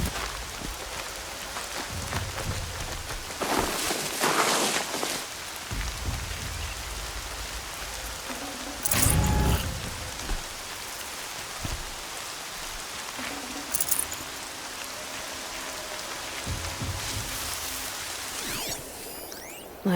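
Steady rain in the video game Horizon Zero Dawn patters across a surface throughout, with a few louder splashes and rumbling bursts breaking through the constant wash.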